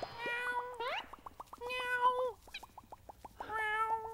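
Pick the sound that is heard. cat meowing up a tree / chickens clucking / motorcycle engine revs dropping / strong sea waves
cat meowing up a tree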